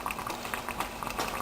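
Sea salt water bubbling vigorously in an electrolysis cell as gas forms, a steady close fizzing and boiling texture with no talk.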